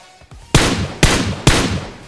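Gunfire in the mobile battle royale BGMI (PUBG Mobile): three loud, sharp shots spaced about half a second apart, each with a short ringing tail, preceded by faint softer pops.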